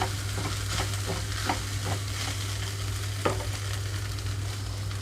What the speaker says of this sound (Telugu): హ్యాండిల్ పట్టుకొని టాస్ చేసుకునేలాగా పాన్ ఉంటే అలాగే చేసేసుకోవచ్చు రైస్ వేసిన తర్వాత సాల్ట్ కూడా వేసేసి